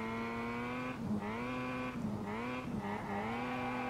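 A Mazda MX-5 fitted with a 13B rotary engine drifts in the SLRR racing game, its high steady engine tone dipping and rising between short bursts of tire squeal, with no talking.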